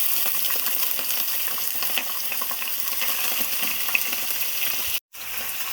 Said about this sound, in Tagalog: At ngayon, itiprito ko siya sa olive oil.